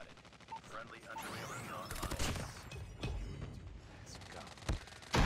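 Rapid bursts of gunfire from a COD Mobile match, dense and loud with repeated sharp cracks and mechanical clatter, speech faintly mixed in underneath.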